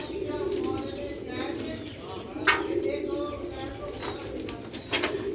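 Domestic pigeons cooing in a loft, low soft coos repeating under someone talking throughout, with occasional wing flutters.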